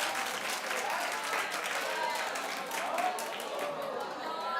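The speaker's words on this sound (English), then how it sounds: "Clap if you're happy." A talk-show studio audience claps steadily, with a broad, even wash of many hands that is fairly loud and continuous throughout, with no voices on top.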